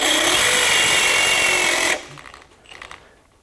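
A Champion step reamer cuts into 1/2 inch steel with a loud, harsh, grinding power-tool whir lasting about two seconds, close up, then cuts off to quiet handling sounds.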